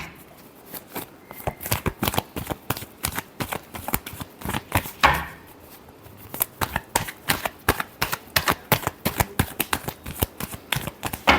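Tarot cards shuffled by hand in a steady run of crisp riffling bursts and soft flicks, close and alone with no talk, a brief pause near the middle before the rapid shuffling resumes.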